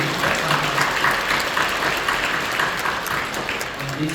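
Sustained applause from a church congregation at a Sunday worship service, a dense steady wash of many hands clapping that carries evenly through to the end.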